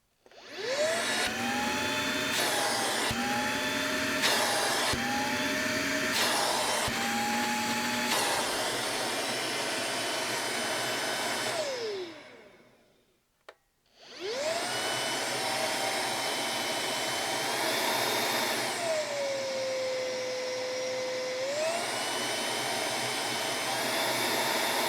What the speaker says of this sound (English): I'll stop speaking, you can hear the volume of the vacuum, and just give you a demonstration of the suction power.